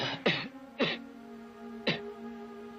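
Three short, harsh coughs or throat-clearing bursts from a person in a classic Western TV drama, spaced apart over a steady low hum.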